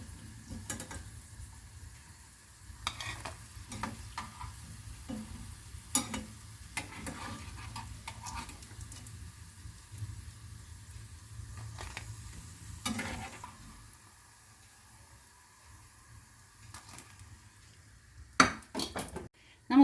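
Paneer samosas fry in hot oil at a low, steady sizzle while a utensil stirs, turns and clinks against the pan in scattered knocks, with a few louder scrapes toward the end.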